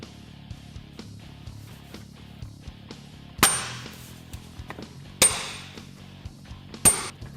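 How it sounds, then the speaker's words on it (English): Metal clips on a Honda Talon 1000 airbox lid snap open with three sharp, close clacks spaced over several seconds, amid small quieter taps and handling clicks. "Remove all clips around the airbox lid."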